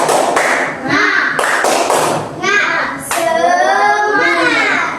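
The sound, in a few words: class clapping hands together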